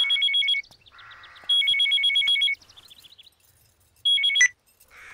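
A telephone rings loud and close in repeated electronic bursts with short gaps between them, no voices over it.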